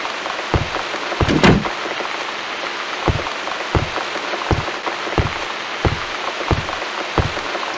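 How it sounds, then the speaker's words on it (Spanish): Steady rain falling in the horror video game The Room, a constant loud hiss of rain with heavier drips and knocks striking at irregular intervals, alone without talk. "Me gusta mucho la lluvia, por favor."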